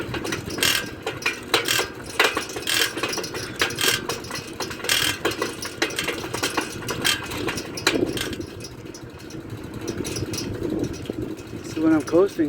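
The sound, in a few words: bicycle chain noise while pedaling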